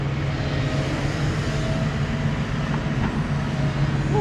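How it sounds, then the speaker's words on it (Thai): Kobelco SK200-10 excavator engine running steadily at close range, a continuous low diesel drone with a constant hum and no break over several seconds. "เสียงเครื่องรถแมคโครครับ"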